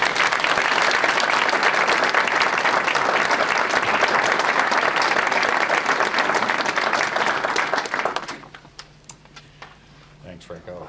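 Sustained applause from a large audience welcoming Deputy Secretary Carter to the podium, loud and dense for about eight seconds before quickly fading to near silence.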